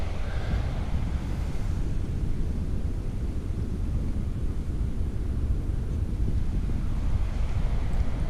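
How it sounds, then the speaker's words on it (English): Waves break on the shore at a coastal nature reserve, a steady loud wash of surf mixed with heavy wind buffeting the microphone, continuous and unbroken for the whole stretch with no talk. "the sound of the waves in the background there"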